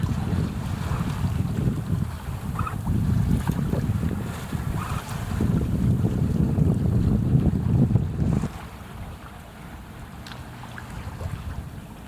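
A sailboat under sail off Mooloolaba runs with steady wind rush and water noise against the hull, loud and buffeting for most of the stretch, then easing to a softer, calmer wash near the end.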